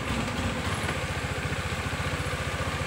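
A Honda Beat FI scooter engine running rough and sputtering, a close, steady low putter with an uneven pulsing rhythm throughout, no talking.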